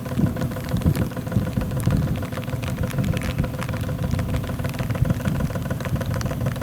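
A Mercury 40 four-stroke outboard boat motor idles steadily at close range, a continuous low, even rumble with faint rain on a Florida swamp before a hurricane.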